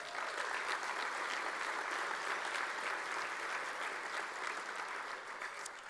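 Steady applause from an audience, a dense wash of clapping that holds at an even level for several seconds with no speech.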